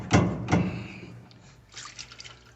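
Water spilling out of a Speed Queen washer tub during belt and tensioner repair, two quick splashy gushes followed by fainter trickling and dripping nearby.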